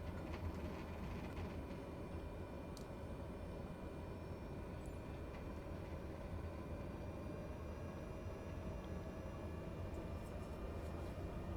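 A Cessna Caravan taxis slowly after landing on Papa Westray in Microsoft Flight Simulator 2020, its turboprop giving a steady, muffled rumbling drone with faint clicks on top, no speech.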